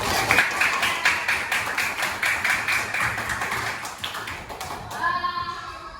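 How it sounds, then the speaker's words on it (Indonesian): A classroom of students applauding after a speech, steady close clapping with rapid uneven hand taps that fade near the end as a voice begins speaking. "beri tepuk tangan semuanya"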